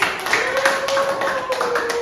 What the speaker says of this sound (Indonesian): boleh tepuk tangan buat kalian